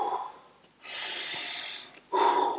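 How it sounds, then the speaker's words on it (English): A person breathes deeply after a boxing workout, with long audible exhales and sharp intakes of air, close and fairly loud, with no talk. "Deep breaths."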